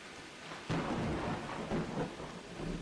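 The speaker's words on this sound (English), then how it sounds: "I wish the storm would go away because it's really loud in my headphones" A thunderstorm rages in the survival game VEIN: a loud crack of thunder breaks in and rolls into a sustained rumble over steady heavy rain, dense and continuous, with no voices.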